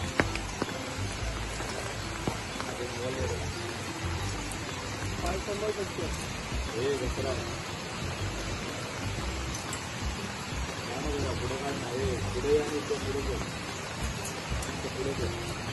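Continuous rain pours down beside a flooded, muddy river in rural Ratnagiri, Konkan, making an even, close hiss of drops with a faint rushing flow underneath.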